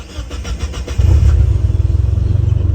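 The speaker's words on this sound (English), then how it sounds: "so we'll turn on car" A car fitted with a Link G4X ECU cranks with a rapid stutter for about a second, then catches and settles into a loud, close, lumpy idle.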